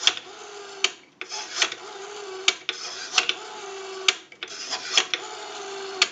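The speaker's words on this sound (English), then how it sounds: "We have a nice smooth return on our rotary now." Rotary dial on a Western Electric 236G three-slot payphone being turned and released several times, each return making a quick run of ticking pulses between sharper clicks, close and mechanical, with a faint steady tone underneath.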